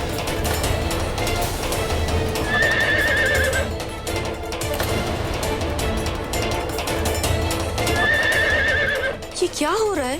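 A mare neighs loudly twice with shrill whinnies amid hoofbeats, clip-clop and a busy crowd of people talking, ending on a wavering pitch.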